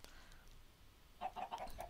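Chickens in the Minecraft Agrarian Skies modpack give a short run of soft game clucks, four or five quick calls in the second half over a faint background.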